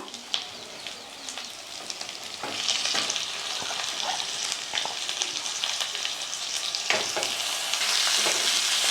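Washed free-range chicken pieces frying in a hot pan, a steady loud sizzle with crackling bursts and occasional stirring scrapes, swelling as the meat hits the oil and then holding a dense hiss throughout.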